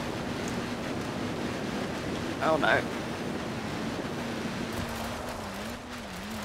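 A Land Rover ploughs through a shallow river in Forza Horizon 4, with a steady rush of splashing water and a low engine drone throughout. A short exclamation cuts in partway.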